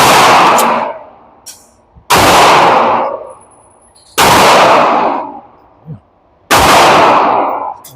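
Pistol shots fired with a Romulus trigger ring out loud and close in three or four separated bursts, each a quick double tap with a ringing tail, plus a couple of softer clanks between them.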